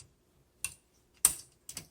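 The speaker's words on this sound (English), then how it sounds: "They're called tab keys, but all you do is you press and drag" Setting tab stops on a 1967 Olympia SM8 manual typewriter gives three sharp, separate mechanical clicks, close and crisp, with short silences between them.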